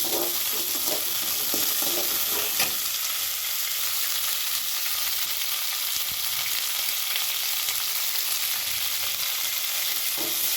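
Small onions sautéing in a pan for an egg gravy, a loud continuous sizzle up close with occasional stirring scrapes throughout.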